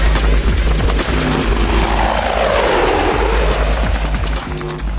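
An AH-64 Apache helicopter in flight, a loud continuous rotor and turbine drone with rhythmic blade chop, heard close and alone without speech.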